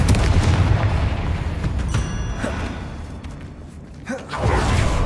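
Confringo blast spell from Hogwarts Legacy, a heavy booming explosion with a low rumbling roar that fades away, then a second whooshing blast near the end.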